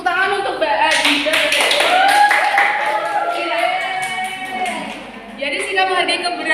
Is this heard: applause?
yes